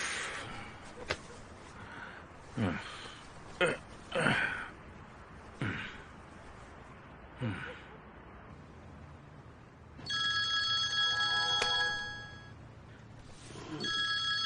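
A phone rings in a quiet room, a bright electronic tone sounding near the end, preceded by soft breaths and rustles.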